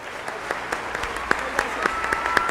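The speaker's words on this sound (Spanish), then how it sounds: "todos ellos se merecen un aplauso de todos nosotros" Scattered clapping from a small audience at a presidential candidates' forum, sparse and uneven rather than a full ovation, with faint murmuring underneath.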